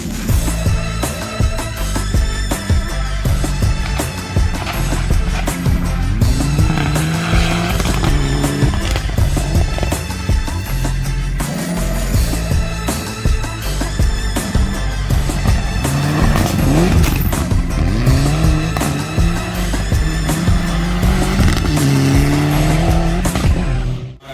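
A Mitsubishi Evo 9 race car tears around an autocross course in Nakuru, Kenya, with a steady, loud engine drone that rises and falls through revs and gear changes across the whole run, mixed with a dense layer of other sound.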